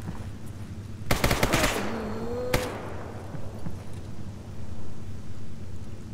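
STALKER GAMMA video game combat: a rapid burst of automatic gunfire followed by a single sharp shot, with bullets striking enemies, set over a steady low ambient rumble.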